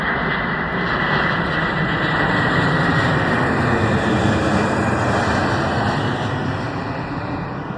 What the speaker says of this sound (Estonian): Mõni mega suur lennuk maandub ikka, tähendab, lendab nii madalalt siit